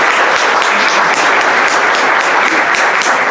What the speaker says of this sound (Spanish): Démosle un fuerte aplauso, por favor, a los ponentes.